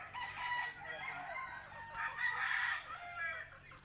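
Roosters crow at a fighting-cock farm, a few overlapping crows with clucking around them, heard at moderate distance and fairly faint.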